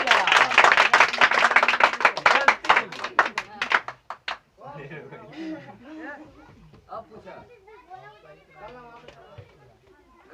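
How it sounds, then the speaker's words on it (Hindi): Children clapping in a village classroom, a loud burst of quick hand claps that fades after about four seconds, followed by speech and chatter. "वाह ताली मार ताली"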